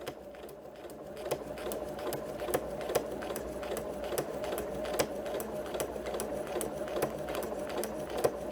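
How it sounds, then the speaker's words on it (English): A sewing machine stitches foundation paper piecing, its steady mechanical whir punctuated by regular needle clicks at a brisk, even rhythm, running continuously and close. "I'm going to go ahead and stitch a little bit. I'm going to do a couple of back stitches."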